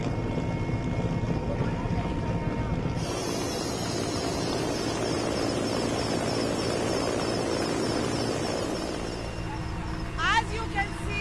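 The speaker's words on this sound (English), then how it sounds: "food and rations are being airdropped from this Mi-17 special helicopter" An Mi-17 helicopter flies over flood-submerged Srinagar, giving a constant loud rotor and engine roar that stays steady throughout.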